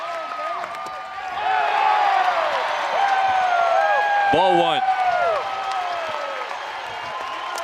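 A big baseball crowd on its feet, cheering and clapping in a steady roar that swells after the first second, while an announcer talks over it.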